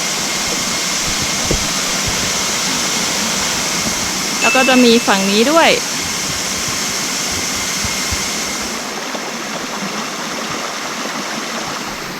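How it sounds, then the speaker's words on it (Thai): A waterfall at Phu Kradueng rushes in a broad, steady roar heard from above, with someone speaking briefly over it partway through. "โอ้ดูน้ำตก ได้ยินเสียงน้ำตกแล้ว"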